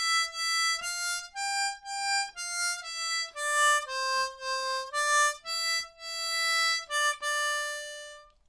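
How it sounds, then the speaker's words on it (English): A C harmonica plays the opening line of Beethoven's Ode to Joy, a clean sequence of single blown and drawn notes in steady rhythm, close and fairly quiet with no voices. "Grab your C harmonica, and we'll start with line A, which sounds something like this."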